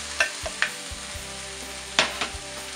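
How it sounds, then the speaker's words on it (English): Vegetables being sautéed in a pan for a vegetarian egg bake: a steady low sizzle, with a few sharp scrapes and clatters of stirring, close by and with no talking. "And now we're going to add most of the vegetables."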